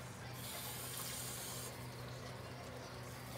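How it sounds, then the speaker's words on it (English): Water is poured into a pot of Malaysian curry cooking on a strong gas flame, making a soft, steady rushing and splashing sound, faint and continuous with room noise behind it. "Okay, I'll add some water."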